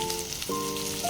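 Tomatoes sizzle as they are sautéed in a pan for a chicken gravy, giving a steady, moderately loud frying hiss throughout a brief moment with no talking.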